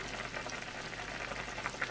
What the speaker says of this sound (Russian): Зажарка у нас кипит.